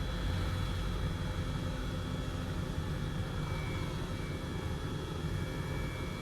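Airbus H135 helicopter engines in Microsoft Flight Simulator, flying up to Mount Baker, a steady, continuous turbine whine and rumble with a faint high tone, unchanging and fairly quiet.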